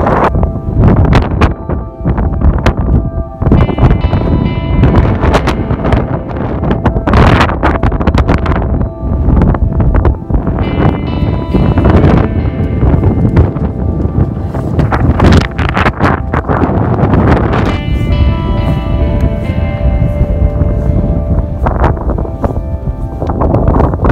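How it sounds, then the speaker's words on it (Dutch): Strong, icy wind blows hard across a mountain in the Alps, roaring and buffeting the microphone in loud continuous gusts throughout. "En het waait ontzettend hard."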